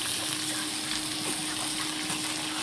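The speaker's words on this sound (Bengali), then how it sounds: "কাঁচা তেল দিয়ে মাখিয়ে কড়াইতে ছাড়লাম" Koi fish coated in raw oil sizzles steadily in a hot wok, a constant close frying crackle with no talk.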